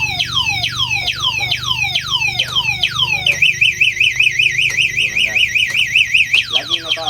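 A Condy 800 motorcycle's alarm blares close and loud, running through repeated falling siren sweeps and then a fast warbling trill, switching patterns as it cycles.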